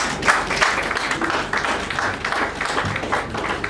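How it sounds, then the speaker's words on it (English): An audience bursts into applause at a rural development and economy dialogue session, dense overlapping hand claps at moderate loudness throughout. "please another round of applause"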